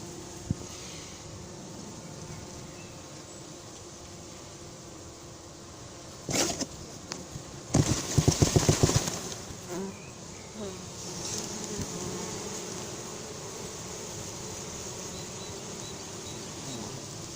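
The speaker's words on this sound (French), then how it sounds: "l'essaim de la ruche horizontale qu'on a récupéré, ça paraît pas gros, mais c'est un essaim normal." A swarm of honeybees hums steadily while being hived, a dense close buzz that carries through the whole stretch, broken by a few brief knocks and a burst of handling noise partway through.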